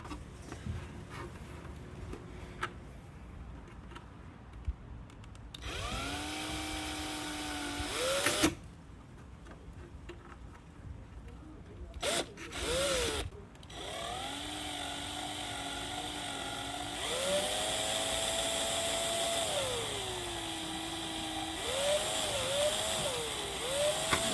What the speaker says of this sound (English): what we're gonna do is drill some holes here on the tabs, so that way we could put our mounting screws in